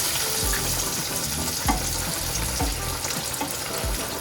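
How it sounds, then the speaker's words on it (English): Steaks sizzle as they are laid into a hot pan, a dense steady crackling hiss with occasional soft thumps, close and continuous. "We're gonna take our steaks, carefully and slowly lay them down,"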